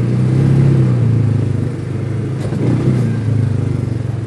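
An ATV engine drones steadily while riding a trail, a close, continuous mid-pitched hum with slight rises and dips in revs, and no voices.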